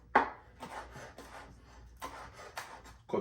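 A knife cuts up fresh rosemary with a string of short, rough chopping strokes at an uneven rhythm. It is close and fairly clear, with no talk.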